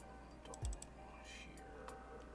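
Quick, light keystrokes on a computer keyboard, a short burst of faint clicks near the start and a few scattered taps later, under a low steady hum.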